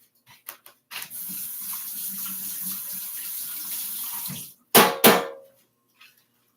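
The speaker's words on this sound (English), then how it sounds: "I'm going to go rinse this off." A dish rinsed under a running kitchen tap during baking; a steady, close stream of water runs for several seconds, then stops, followed by a couple of short splashy bursts and clatters.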